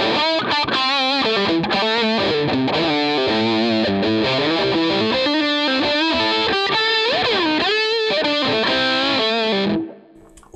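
Electric guitar run through a treble boost pedal into a Vox AC30 amp, playing bright, mildly distorted chords and riffs with a medium-gain edge, loud and continuous for about ten seconds before cutting to faint hum.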